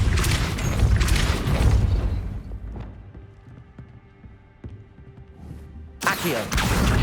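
A Depulso spell cast in Hogwarts Legacy lands as a series of heavy booming thumps, loud bursts at the start and end with quieter impacts between, mixed with game effects.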